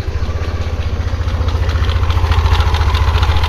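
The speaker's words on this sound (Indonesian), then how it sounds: "Nah, suaranya kasar kayak gini, klek klek klek." Yamaha NMAX scooter engine idling roughly with a steady, rapid knocking clatter, close and loud, the rhythm holding even as the revs rise slightly.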